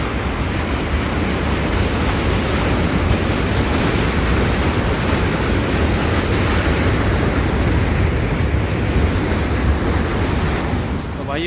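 Water rushes loudly over a weir on the Upper Ganga Canal at Bulandshahr in a constant, full roar that fills the whole stretch without letting up.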